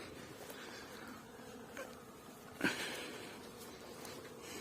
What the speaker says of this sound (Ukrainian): Обльоти бджіли йдуть.